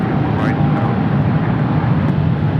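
Boeing 777-300ER in CIIE special livery on its takeoff roll at Los Angeles airport, a steady broad engine roar that fills the whole clip without fading.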